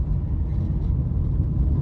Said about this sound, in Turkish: Araba çok yavaş, sen 4'ü alıyorsun, titriyor.